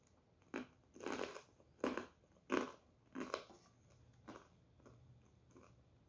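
Toasted bread topped with avocado and egg crunched in a series of about six close, crisp bites followed by chewing, the bites fading toward the end, with no talking.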